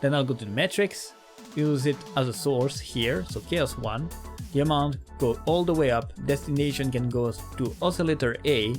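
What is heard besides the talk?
No everyday noises stand out.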